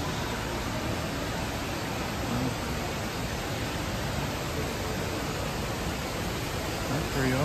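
An indoor waterfall inside the old Grand Ole Opry hotel in Nashville, Tennessee pours as a loud, steady, broadband rushing roar that fills the whole stretch without pause.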